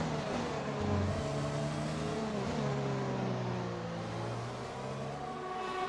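Formula 1 race cars in the F1 2020 video game at the Montreal Canadian Grand Prix scream along at full speed, with layered rising and falling engine whines sustained throughout, moderately loud.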